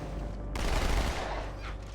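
An SMG in Halo opening up in a sustained burst, dense rapid fire starting abruptly and then tailing off, loud and close with no voices.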